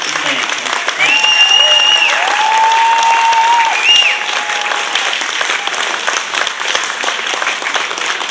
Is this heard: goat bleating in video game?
no